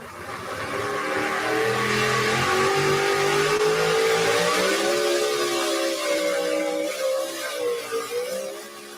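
The Pepper Shaker pulling truck revs its engine hard on a pull run at Coldwater, Michigan. It gives a loud, sustained roar whose pitch climbs and wavers for the whole stretch.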